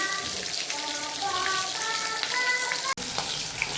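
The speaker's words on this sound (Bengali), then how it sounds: "মাছটাকে এবার ভালো করে ভেজে নেব" Fish, rubbed with turmeric and salt, frying in hot oil in a home kitchen, giving a steady close sizzle throughout with a brief break near the end.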